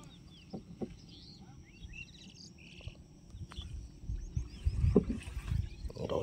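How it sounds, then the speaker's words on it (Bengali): Small wooden fishing dinghy drifting slowly along a river, with soft intermittent paddle and hull knocks, water lapping, and faint insects and birds around; the strokes grow louder toward the end. "নৌকা আস্তে আস্তে করে আগিয়ে চলেছে।"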